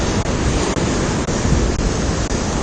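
Ocean waves crash on the shore in a loud, dense, continuous roar of broadband surf noise, with wind buffeting the microphone throughout.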